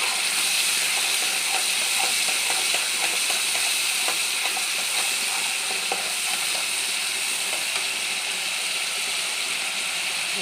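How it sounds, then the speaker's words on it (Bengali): A paste of tomato, ginger and green chili fries in a pan with a constant bright sizzle and hiss, close and steady, with faint scraping from stirring throughout. "আর কেটে রাখা প্রথমে টমেটোর পেস্টটা দিয়েছি, এরপরে দিয়েছি আদা আর কাঁচা লঙ্কা বাটাটা।"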